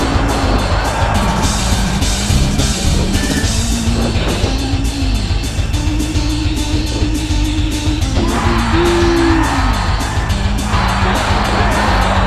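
A continuous roaring crowd from the Virtual Pro Wrestling 2 video game fills the arena with chanting, cheers and yells, with a few brief bangs from ring action cutting through the steady din.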